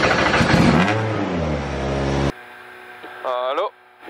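A rally car engine revs hard while warming up, its pitch climbing and holding loud for about two seconds, then drops to a quieter idle with one short rising rev near the end.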